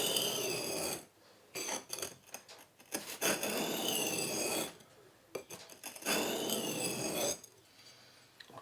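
A knife is sharpened by honing a micro bevel on its edge: rhythmic, close rasping strokes of steel on a stone, several long passes separated by short pauses.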